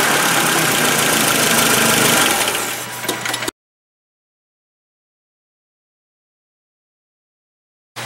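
A Nissan forklift engine idles roughly at close range for about three seconds, a steady uneven rumble with knocking vibration that then cuts off abruptly into silence.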